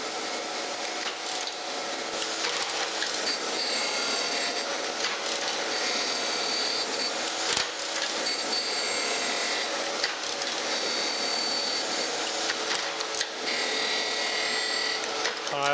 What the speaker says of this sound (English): I'm just doing some rough grinding here